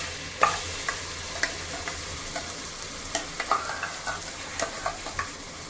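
Masala paste frying with already-fried onions in a pan while cooking chicken biryani, a steady close sizzle with repeated sharp scrapes and clacks of a stirring spoon, no voices.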